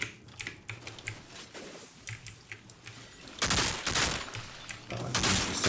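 Weapon fire in the video game Outriders, a rapid crackle of shots that swells into a loud, dense burst of automatic gunfire in the second half, with a steady game hum underneath.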